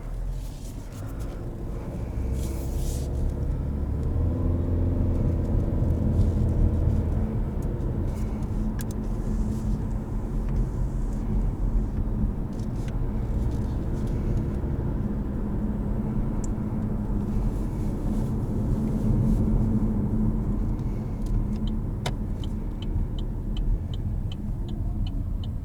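A 2020 Chevrolet Malibu RS with a 1.5-litre engine heard from inside the cabin while driving: a steady low road and engine rumble with tyre hum, continuous and moderately loud, no talking.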